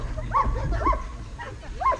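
A large, powerful dog in a protection training session gives four short, sharp vocalizations at a steady pace, close and fairly loud over low rumbling background noise.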